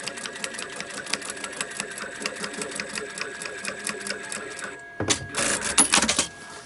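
Sewing machine running fast and steady while stitching a seam on a quilted, lined crossbody backpack, close by, then a brief stop and a short, louder burst of stitching.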